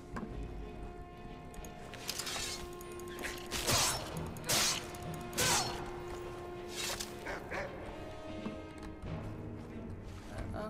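A dog barking in the Skyrim mod Relics of Hyrule: several loud, separate barks spaced a second or so apart over a low, steady game background.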